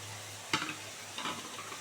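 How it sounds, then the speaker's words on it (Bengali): Green chillies drop into masala sizzling in oil in a pan for a koi fish curry, giving a soft frying hiss with a brief stir or scrape. "মশলা থেকে তেল ছেড়ে দিয়েছে, এবারে কাঁচা লঙ্কাটা দিয়ে দিচ্ছি।"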